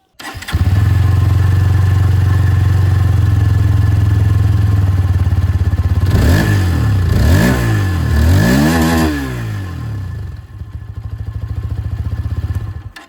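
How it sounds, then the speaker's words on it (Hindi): A Hero Xtreme 160R motorcycle engine starts and idles loudly up close, then climbs through several rising and falling revs of its exhaust before settling back to a steady idle, with no one talking. "बाइक की जो एग्जॉस्ट साउंड है वो मैं आपको सुना दूँ"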